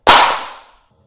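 An Apple iPad Pro dropped face down from three feet onto the floor, one sharp, loud slap of impact with a quick decaying rattle, heard alone.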